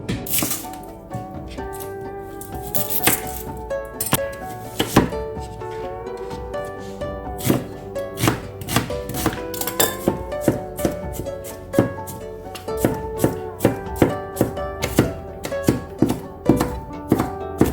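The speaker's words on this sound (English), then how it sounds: "We're going to chop up our onion." A knife chopping an onion on a cutting board: a run of sharp, rhythmic thunks that starts sparse and quickens into fast, steady strokes, close and fairly loud.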